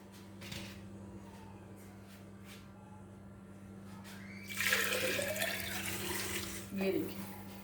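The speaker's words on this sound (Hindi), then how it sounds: "ये देखिए, मैंने इसमें पानी ऐड कर दिया है।" Water pours into a pot of haleem-style dhaba dal during cooking, a splashing gush that starts midway and runs for a few seconds before a brief second splash, preceded by quiet kitchen clatter.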